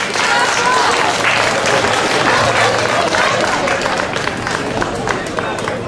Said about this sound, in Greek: Ένα χειροκρότημα για τους συλλόγους που πήρατε μέρος.